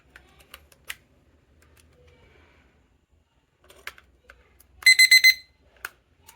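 A rapid burst of four electronic beeps from a digital study timer rings out clearly just after its battery is inserted, preceded by scattered small clicks and taps of handling.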